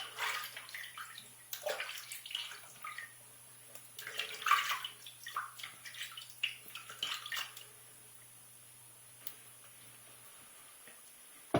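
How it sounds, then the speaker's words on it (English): Water splashes and runs intermittently while someone rinses off after shaving, with irregular close splashes and trickles that thin out toward the end, leaving near silence. "Let me rinse off here."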